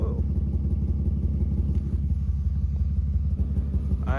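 A vehicle engine with a suspected blown head gasket idles roughly, a low pulsing rumble that runs steadily throughout, close by, with someone talking over it.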